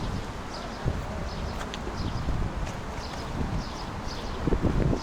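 Gusty wind buffets outdoors at Maidan Nezalezhnosti in Kyiv, Ukraine, with a broad rushing noise and low microphone rumble, with faint chirps from distant birds in the background.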